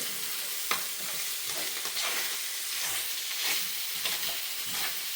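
Fried rice coated in hoisin sauce sizzles steadily in a hot pan while a spatula stirs and scrapes it in irregular strokes, close and continuous.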